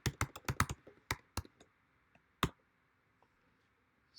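A password is typed on a computer keyboard as a quick run of close, crisp key clicks, then a few scattered taps trailing off into quiet.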